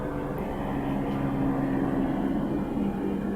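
A helicopter passes overhead, its steady droning rotor and engine noise holding at constant loudness throughout with no talking.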